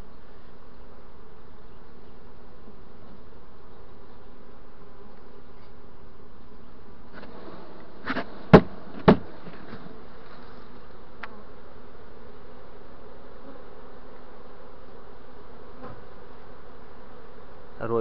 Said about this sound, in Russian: Все, сейчас будем засыпать пчел в улей.